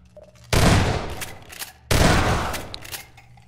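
Two heavy shotgun blasts in the video game Half-Life 2 Deathmatch, about a second and a half apart, each hitting hard and loud and then tailing off with a rattling decay.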